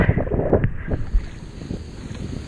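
Large ocean waves crashing around a small boat under strong wind, with loud rumbling surges and gusty buffeting against the microphone, easing slightly after the first second.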